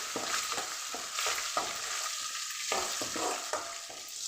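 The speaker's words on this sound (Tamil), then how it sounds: "பூண்டு வந்து ஒரு நிமிஷம் ஆயிலில் ஃப்ரை பண்ணிக்கலாம்" Garlic frying in hot oil for rice, a steady close sizzle broken by regular scraping stirs of a spoon in the pan, with no voices.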